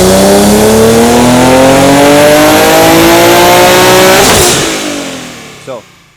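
A 580whp twin turbo Infiniti G37 roars on dyno rollers, its loud engine climbing steadily in pitch through a hard pull before backing off and winding down near the end.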